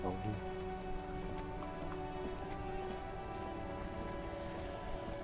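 Steady rain patters continuously in the video game Disco Elysium, a dense even hiss with a low musical drone running underneath and no voices.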